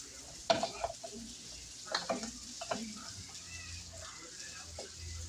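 Cabbage cooking in a pan gives a soft, steady sizzle with a few louder stirring clatters and scrapes, heard fairly close and fairly quiet.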